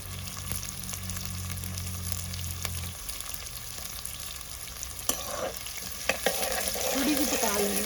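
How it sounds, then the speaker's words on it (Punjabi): Bell pepper frying and being stirred in a pan, a steady close sizzle under a few scraping stirs, with no talk. "ਇਹਨੂੰ ਆਪਾਂ ਪਹਿਲਾਂ ਸਿਮਲਾ ਮਿਰਚ ਕੱਲੀ ਝੱਸਾਂਗੇ"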